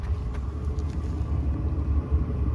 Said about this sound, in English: I have an exhaust system on it, which you can probably hear down here.